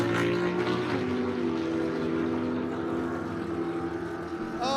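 Drag race cars, a Nova and a Monte Carlo, racing heads-up at Empire Dragway, a loud sustained engine roar with rising tonal whine that holds steady, then fades slightly as they pull away.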